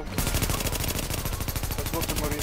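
Automatic gunfire in the video game The Division, rapid continuous bursts of shots filling the whole moment, loud and close.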